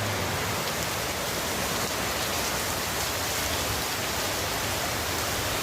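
Steady rain pouring in a village, a dense, even hiss of falling water that fills the whole stretch without pause and with no voices.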